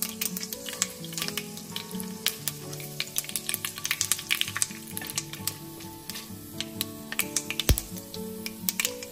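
Dried red chillies and bay leaves crackle and spit in hot oil for a tempering, a dense run of sharp popping bursts over steady sizzle, close and fairly loud, without any talk.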